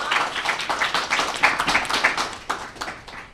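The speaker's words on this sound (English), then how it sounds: "Give us a round of applause." A modest audience at a college startup pitch competition gives a round of applause: close, rapid, somewhat sparse hand claps forming a brief ragged burst that tails off.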